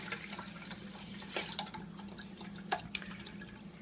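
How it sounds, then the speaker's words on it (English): Beer and water are poured into a cooking pot in a home kitchen, giving quiet splashing and a few distinct drips and clinks over a low background hum. "I'm going to put in our Bud, or your choice of beer, and 3 cups of water."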